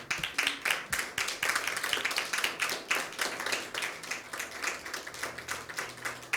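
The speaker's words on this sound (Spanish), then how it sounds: "¿Cuántos le podremos dar un aplauso fuerte al Señor?" A church congregation claps loudly and steadily in a dense, continuous round of applause that fills the whole stretch, with no talk over it.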